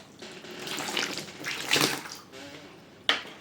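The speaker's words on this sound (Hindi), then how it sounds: "हाथ धो करके" Tap water runs for a few seconds as hands are washed after a yogic cleansing practice, a soft close splashing with a brief louder splash near the end.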